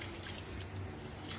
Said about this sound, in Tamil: அரிசியை எப்பயுமே நல்லா அலசிடுங்க.